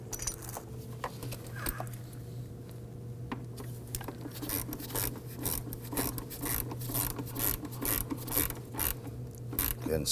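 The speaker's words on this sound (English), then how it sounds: "Let's go ahead and secure that screw over there." Small mechanical clicks and scraping from a screw being tightened on the brake master cylinder of a 2008-2011 Ford Focus, close and fairly steady over a low background hum, with no talking.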